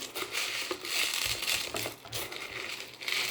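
Hard corn kernels poured into a jar rattle and patter continuously, a loose granular pouring with crunchy, crinkly texture, close and fairly quiet.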